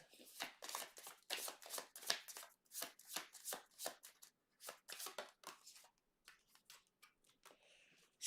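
A deck of tarot cards is shuffled repeatedly, with a steady run of crisp, close riffling bursts that thin out toward the end, with no talk over them.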